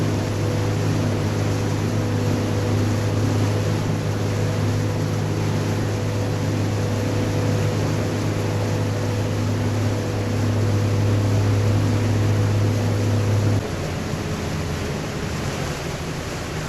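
An 11-metre Max 108 Pro motorboat running at sea gives a steady, loud engine drone with a low humming tone and wash of water and wind, continuous throughout before the pitch shifts slightly near the end.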